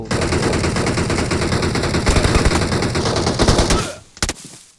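Rapid, dense gunfire crackles loudly in a long continuous burst and then breaks off into a few last sharp shots before fading.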